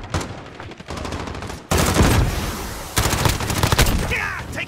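Gunfire in Call of Duty Modern Warfare Warzone: loud bursts of rapid automatic fire and fusillades come close together, with short gaps between volleys.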